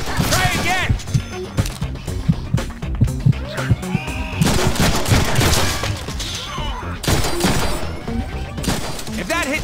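Rapid bursts of gunfire from the Deadpool video game, loud and dense with repeated sharp shots. Game voices talk over them, and music or effects sit underneath.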